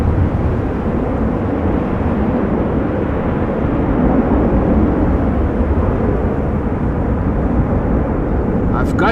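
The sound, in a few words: KLM heavy jet airliners taxiing at Schiphol airport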